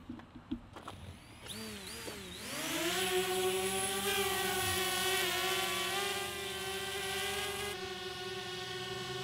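A DJI Spark drone spins up from a quiet start, its propellers rising into a loud, steady, close whine that holds on through takeoff.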